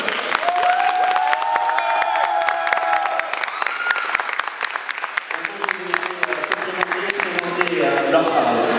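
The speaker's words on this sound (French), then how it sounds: "Vous pouvez les applaudir." A convention audience claps for a team invited onstage, sustained dense applause with some cheering that continues for several seconds and thins out near the end as voices take over.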